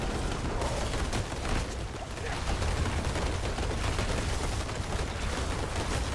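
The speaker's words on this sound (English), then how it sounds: "Oh wow. That's a lot of explosions." A dense, unbroken barrage of rapid explosions and gunfire-like blasts from a video game battle rumbles on continuously at loud, steady volume with no pauses.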